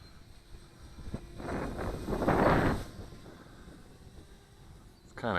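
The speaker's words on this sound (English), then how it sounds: "wind's kicking up." Strong outdoor wind gusts buffet the microphone near water, swelling into a loud rushing burst in the middle before easing to a softer breezy background.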